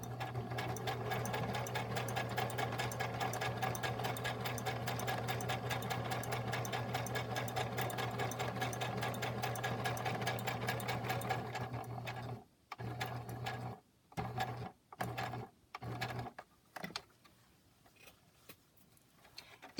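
A sewing machine stitches a lace pocket onto a fabric journal cover, running steadily and loud for about twelve seconds, then breaking into short stop-start bursts as the fabric is pivoted and pins are pulled.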